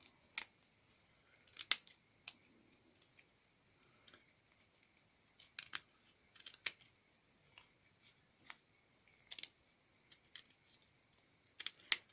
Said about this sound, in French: on va couper la toile